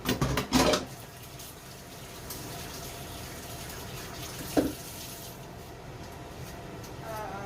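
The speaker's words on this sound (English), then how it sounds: "Just wash my hands a minute, guys." Hands are washed under a running kitchen tap, a steady hiss of flowing water with a couple of brief knocks, one at the start and another midway, and no speech.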